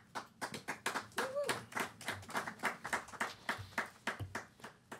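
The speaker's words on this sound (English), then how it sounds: "it's good to hear a little bit of applause for you" Steady applause from a crowd, many hands clapping in dense bursts for several seconds, with a brief tonal sound partway through.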